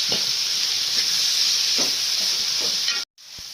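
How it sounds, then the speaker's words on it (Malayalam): Chopped tomatoes and curry leaves sauté in a pan for chicken mappas, giving a loud steady sizzle with several soft stirring scrapes, cut off by a brief silence near the end. "നമുക്കതിലേക്ക് 2 തക്കാളി ചെറുതായിട്ട് അരിഞ്ഞത്, പിന്നെ കുറച്ച് കരിയാപ്പില മതി. ഇനി അത് കുറച്ച് വഴറ്റാം."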